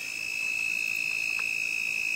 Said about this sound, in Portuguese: Olha esse grilo.